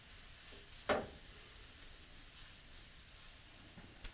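Shawarma skewers brushed with plain olive oil grill with a faint, soft sizzle, broken by one brief scraping clatter near the start and a small tick at the end.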